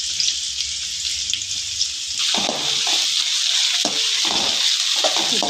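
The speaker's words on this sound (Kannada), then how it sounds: "ಈಗ ಸ್ವಲ್ಪ ಬ್ರೌನ್ ಕಲರ್ ಬರೋವರೆಗೂ ಫ್ರೈ ಮಾಡ್ಕೊಳ್ಳೋಣ" Sliced onion and capsicum fry in hot oil in a pan for chicken fried rice. A loud, continuous close sizzle is broken by scraping bursts of stirring.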